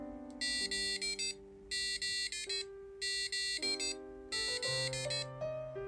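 Thin electronic keyboard tones from an ESP32 touchscreen piano play the Mission Impossible theme as a repeating melody with bright chiming bursts, heard quietly and alone.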